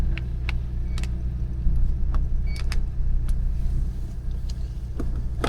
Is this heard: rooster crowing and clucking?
no